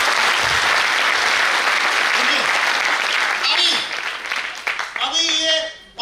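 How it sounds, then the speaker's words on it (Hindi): Loud audience applause at a motivational business seminar, a dense burst of clapping with cheering that fades after about four seconds as a voice begins speaking over the dying claps. "सर के लिए जोरदार तालियां होंगी।"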